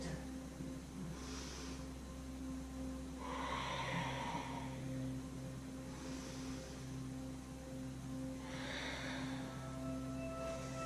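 Slow, audible yoga breathing during a kneeling beginner session: soft breaths repeat in an even rhythm of about four cycles, each a few seconds apart, over a steady low background hum.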